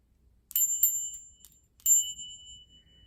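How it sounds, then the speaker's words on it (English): A small spiritual bell rung at a home altar, two bright ringing strikes about a second apart, each with a clear high shimmering tone that hangs and fades in a quiet room. "I love this little bell."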